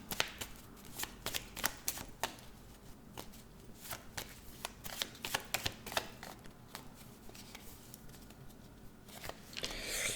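Tarot cards are riffled and shuffled by hand in a quiet room, giving a steady run of crisp, close flicks and soft slaps over about ten seconds, with no talking.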